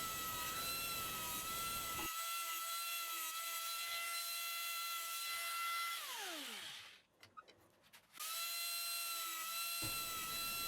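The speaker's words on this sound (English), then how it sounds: "The beauty of carving with a tool like this, or the carbide burrs, is that it's much faster." Rotary carving tool fitted with a carbide burr grinding into wood, a loud steady high whine with a rasping edge that spins down and drops out briefly, then starts again at full speed.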